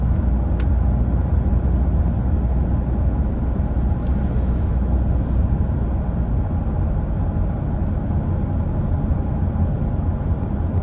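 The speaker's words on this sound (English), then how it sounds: "I'll do this throughout the video so that you can kind of see what the truck sounds like." Strong wind buffets a new Toyota Tacoma pickup while parked in open country, heard from inside the cab as a constant loud low roar with no pauses and no talking.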